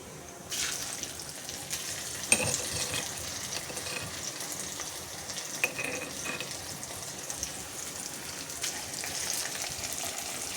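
Chutney drops into hot oil in a pan and sets off a steady, moderately loud hiss and sizzle that keeps going, with a few faint clinks of stirring.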